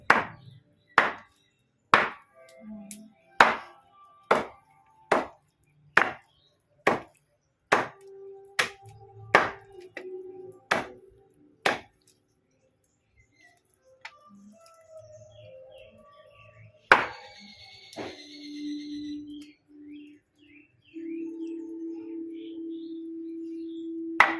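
A knife chops food on a board in a quick, even series of sharp, close strikes that stop partway through, followed by quieter rustling and birdsong chirping in the background.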